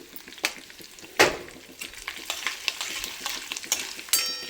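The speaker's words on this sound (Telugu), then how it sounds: "మంచిగా తాలింపు గింజలు, ఎండుమిర్చి ఇవన్నీ బాగా దూరగా వేగినాయి చూడండి" Tempering seeds and dried red chillies fry in hot oil for a tomato chutney, with a soft continuous sizzle broken by sharp stirring clinks and scrapes against the pan.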